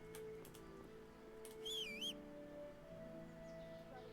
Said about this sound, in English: I did not mean to whistle around them, to be honest.